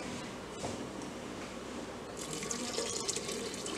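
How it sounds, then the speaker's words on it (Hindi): Water is poured into a pot of tomato, pea and potato curry, a continuous soft splashing pour that brightens toward the end, fairly faint with no talk. "अब हम इसमें पानी डालेंगे,"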